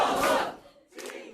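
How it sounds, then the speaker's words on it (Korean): Supporters at a Democratic Party campaign camp in Seoul burst into loud cheering and shouting on an election night win, fading briefly before a second wave of cheers rises. "당선이 확실시되자 민주당 캠프에서 환호성이 터져나옵니다."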